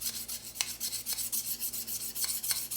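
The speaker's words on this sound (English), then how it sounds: "When I run the knife up against the stone" A knife blade is stroked up and down against a sharpening stone, making a close, steady rasping scrape that repeats in even back-and-forth strokes with no talking.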